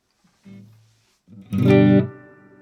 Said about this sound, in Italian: Aggiungo un pochino di riverbero.